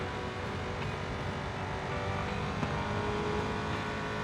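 Engine of a 2025 Ducati Panigale V2 motorcycle downshifting into a corner, a steady, loud, dense drone that barely changes pitch, with a little wind noise and no voices.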